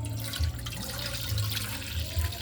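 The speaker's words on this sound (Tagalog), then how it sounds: "Lagay pa ito ng tubig dito." Water is poured into a cooking pot, splashing and gurgling in an uneven stream over a low rumble, with slight surges as the flow shifts.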